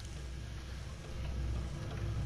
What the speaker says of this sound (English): The sounds of rain, thunder crashing, things banging.